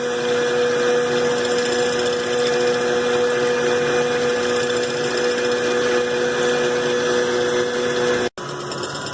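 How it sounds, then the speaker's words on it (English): An electric mixer whirs steadily on high speed for pumpkin cake roll batter, a loud continuous motor drone with a steady pitch that cuts off abruptly near the end, then resumes briefly. "we're going to mix them on high speed for about 5 minutes"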